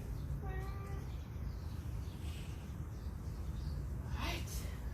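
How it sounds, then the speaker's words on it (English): A cat meows to be let back inside, giving a short cry early on against a steady background hum, with faint noise near the end. "So we should let the cat back in."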